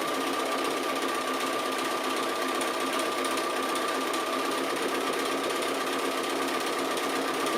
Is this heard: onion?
no